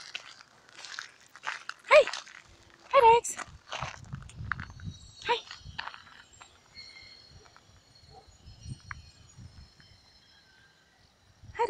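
Dogs barking in short bursts amid rustling and footsteps, with a person calling out nearby; the barks are fairly close and intermittent.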